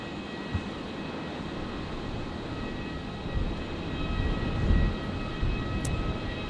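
A Qatar Airways Boeing 777 in oneworld livery taxiing at night at Brisbane Airport, a steady distant engine rumble and whine that swells a little toward the middle, with no one talking.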